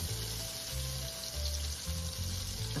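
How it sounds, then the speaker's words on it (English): Two tablespoons of butter sautéing in leftover pork chop grease in a pan, a steady close sizzle and crackle running throughout with a low hum beneath, and no talking. "you leave the grease that's already in here, and 2 tablespoons of butter. I'm gonna saute this just for a couple of minutes."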